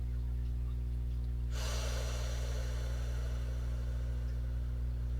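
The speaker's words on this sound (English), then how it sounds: "Deep breath in." One long, deep breath drawn in during a guided breathing exercise. It begins partway through as a broad, airy rush, close and fairly quiet over a steady low hum, and keeps going to the end.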